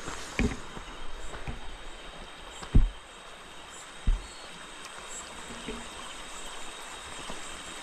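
Stream water flowing steadily at a river confluence near a remote tribal village in Buldhana district, a continuous rushing wash with a few sharp knocks and splashes standing out, no talk.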